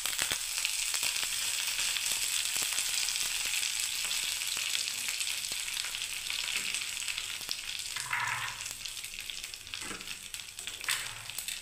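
Curry leaves hit hot oil with a bright, steady sizzle and crackle that stays close and continuous, with occasional stirring scrapes and no talking.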